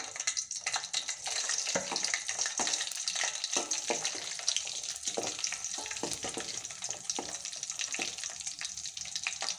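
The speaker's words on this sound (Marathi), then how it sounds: "आता आपण कटलेट आपले छान फ्राय करून घ्यायचे आहेत ब्राऊन कलरचे होईपर्यंत" Cutlets frying in a pan over a medium gas flame, a steady bright sizzle with crackling pops and occasional soft scraping, close and continuous with no voices.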